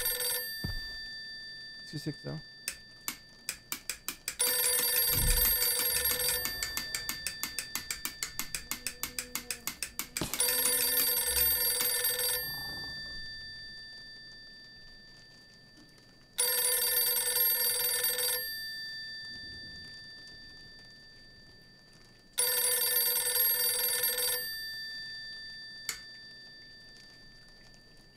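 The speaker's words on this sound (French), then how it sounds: "je vais répondre au téléphone." Telephone bell ringing in the horror video game Visage, repeated loud electronic ring bursts separated by pauses, with someone talking briefly between rings.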